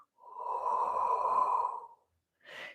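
A long, steady exhaled breath during a Pilates core exercise, close and breathy, lasting nearly two seconds, followed after a pause by a short sharper puff of air.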